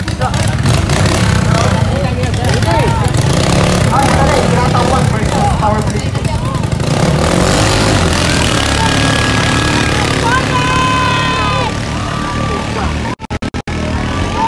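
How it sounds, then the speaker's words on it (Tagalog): Engines of two racing boats at a bancarera boat race in Iligan City, a loud, continuous motor roar with shifting pitch under an excited commentator's voice and crowd noise, ending with a few sharp clicks. "Okay, andar na ang dua ka makina."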